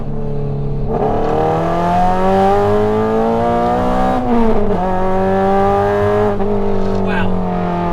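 Honda Civic Type R FN2 engine under way, a loud, close, high-revving four-cylinder note climbing steadily through the revs, dipping briefly at a gear change, then pulling hard again.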